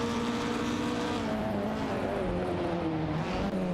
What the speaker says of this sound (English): We've got some epic race car action going on